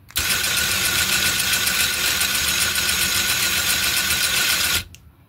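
A small modern electric motor serving as the dynamo on a 1928 Meccano traction engine model whirs steadily and loudly for several seconds, then cuts off abruptly.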